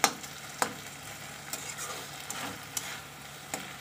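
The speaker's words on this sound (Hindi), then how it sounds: "आप देख पा रहे होंगे कि हमारी जो सब्जी है ये लमसम पिघलने वाली है पूरी की पूरी, और इसे हम अच्छे तरीके से और फ्राई करना होगा" Soft, mushy mixed vegetables being fried further in a pan, a low continuous sizzle punctuated by about half a dozen sharp scraping stirs of a spatula spaced roughly half a second to a second apart.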